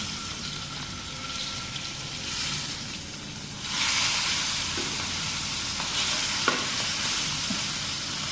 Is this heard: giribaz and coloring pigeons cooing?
no